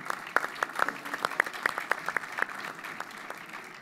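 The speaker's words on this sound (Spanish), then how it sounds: "El aplauso para todos ellos, por favor." Audience at a media industry conference breaks into applause, a modest room of distinct, sharp claps that fades toward the end, heard alone without speech.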